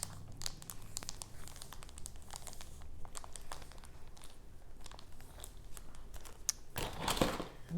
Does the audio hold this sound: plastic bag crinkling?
yes